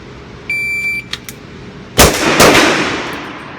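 A Sig Sauer .357 pistol fires a loud, close shot that rings out and decays, preceded by an electronic beep from a shot timer and a few light clicks.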